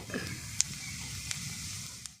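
Cinnamon, cardamom and a spoonful of cumin sizzle in hot mustard oil in a kadai, a soft continuous crackle with a couple of sharp pops, fairly quiet and close.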